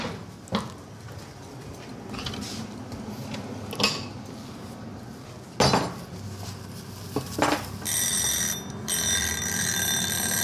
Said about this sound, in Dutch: De wekker uit, want hier loopt een wekker.